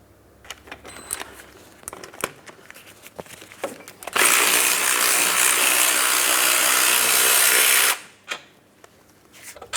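A power tool whirs steadily for several seconds while removing bolts during a CV axle replacement on a 2004-2008 Pontiac Grand Prix 3.8L V6, framed by clinks and clatter of metal tools before and after.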